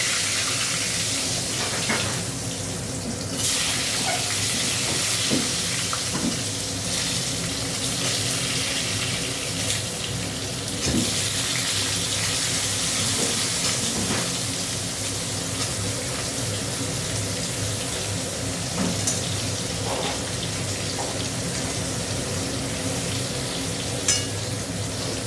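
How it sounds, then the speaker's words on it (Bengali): Potatoes frying in hot oil in a home kitchen, a dense, steady sizzle and crackle running continuously and loud throughout, close up with occasional faint clinks and no talk. "এবার আলুগুলো ভেজে নেব।"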